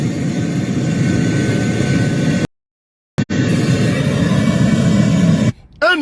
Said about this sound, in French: Un avion gros porteur.